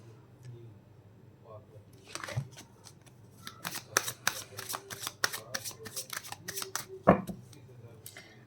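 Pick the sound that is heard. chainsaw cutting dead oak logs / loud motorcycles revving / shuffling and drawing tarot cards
shuffling and drawing tarot cards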